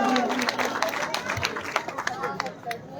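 An audience at a Ramlila stage event applauds a family, a steady wash of dense clapping with crowd murmur mixed in, fairly loud and continuous for about three seconds.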